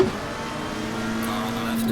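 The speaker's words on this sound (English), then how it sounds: "Will you hear that engine note? Oh, I just love that. I love that screaming noise." A McLaren 720S GT3 race car in the Assetto Corsa Competizione racing game at Zolder, its engine holding a steady, sustained drone close up for a couple of seconds, with no voices over it.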